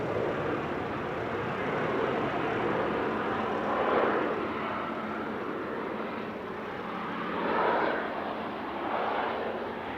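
An airliner at Manchester Airport lining up for takeoff, a broad, steady jet engine rumble heard from a distance, swelling gently at moments over ten seconds with no voices.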